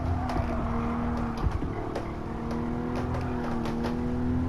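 A race car engine under throttle in Gran Turismo 7, held in fourth gear while sliding through a corner, a steady loud drone with slight pitch wavering throughout.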